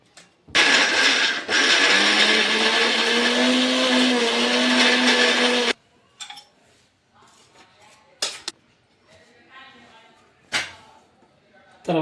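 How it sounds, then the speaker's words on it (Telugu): A kitchen mixer grinder whirs loudly as it grinds masala paste for a Telugu bitter gourd (kakarakaya) curry, a steady high motor whine lasting several seconds before it stops, followed by quieter clinks and handling noises. "ఈ కర్రీకి తయారు చేసి పెట్టుకున్న ఈ మసాలాని మిక్సీలో వేసుకొని గ్రైండ్ చేసుకోవాలి."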